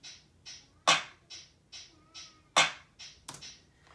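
Snare layers for a hip-hop beat, three snares with a clap and a small rim shot, sound together as a sparse pattern of quiet sharp hits with two louder cracking accents among them.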